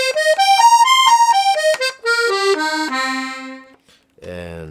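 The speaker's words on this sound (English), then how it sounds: "And it has a nice violin sound with two middle reeds in the right hand." A vintage Venuti piano accordion with 25 treble and 12 bass keys plays on its right-hand violin register with two middle reeds: a clear, reedy melody of short notes stepping up and then down, ending with a brief lower chord.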